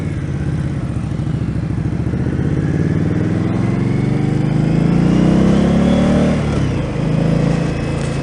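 An Indian Scout motorcycle with a cable clutch accelerates hard, its engine note rising steadily in a loud, close, continuous roar before easing off briefly near the end.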